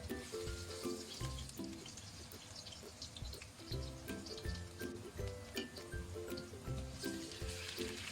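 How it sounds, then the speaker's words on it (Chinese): Chopped scallions sizzling in hot oil in a wok over low heat, a faint steady crackle and hiss running throughout with a soft tonal background underneath. "锅中放油，油热以后下入葱花"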